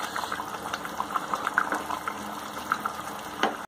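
A whole chicken boils in spicy gravy, with a steady close bubbling and popping simmer that continues throughout with no talking.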